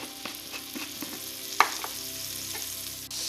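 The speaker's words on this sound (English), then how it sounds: "the pan is getting hot, so I'll be adding a small piece of butter" A small piece of butter melts in a hot pan with a soft steady sizzle, broken by a few light utensil taps and one sharper clink partway through and no voices.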